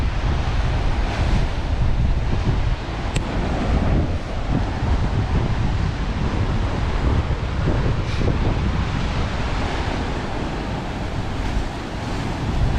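Sea waves at Cape D'Aguilar surge and crash continuously against the shore, with a heavy roar and strong wind buffeting the microphone throughout, and nobody speaks.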